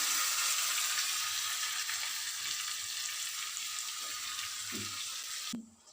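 Curry leaves and green chili paste tempering in hot oil with cumin, a steady close sizzle and hiss that holds evenly before ending abruptly with a soft knock.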